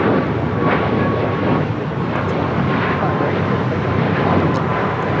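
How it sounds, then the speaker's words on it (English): A Southwest Airlines Boeing 737 MAX 8 takes off at Los Angeles airport, giving a continuous loud jet roar throughout, with voices faintly underneath. "This is Southwest Airlines 2175 taking off to Phoenix, Arizona on a MAX 8"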